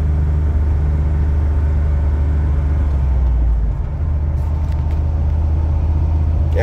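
A Ford EFI 460 engine with a stage 3 cam idling nearby, a steady loud low rumble with an even, continuous throb throughout.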